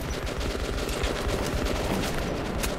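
Dense, continuous gunfire from Metro 2033, rapid overlapping shots and bursts forming a loud, unbroken barrage for the whole stretch.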